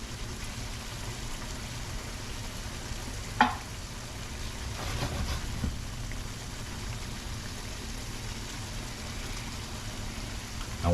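Pepper shrimp sauce simmering and reducing in a pan: a soft, steady bubbling sizzle with a few brief stirring scrapes, close and fairly quiet.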